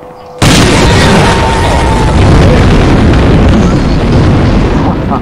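A rocket launcher explosion in the video game Aliens vs. Predator 2, played in team deathmatch: a sudden loud blast bursts in after a moment of near quiet, then a dense roaring rumble carries on to the end.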